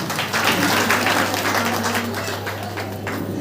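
An audience at a business achievers' celebration applauds with dense, continuous clapping that stays loud throughout, its texture thinning slightly toward the end.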